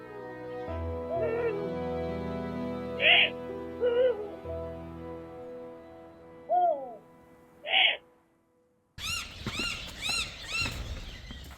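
A young Eurasian eagle-owl, blind and back after ten months away, begs its mother for food with a run of separate squealing, wavering calls between pauses, close and clear, followed by a denser burst of calls at the end.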